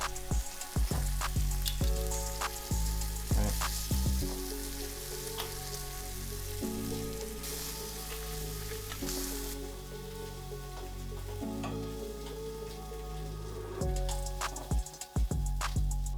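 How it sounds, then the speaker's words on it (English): Steady, dense sizzling of shrimp frying in hot oil, continuous throughout with faint crackles and a few clicks, close by. "this has been frying up"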